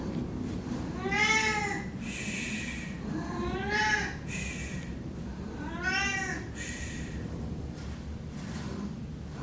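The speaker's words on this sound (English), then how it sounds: "Sorry, that's my cat trying to do the reading himself," A pet cat meows three times in a drawn-out, rising-and-falling way, close and clear, with short pauses between calls and a steady low hum of room noise underneath.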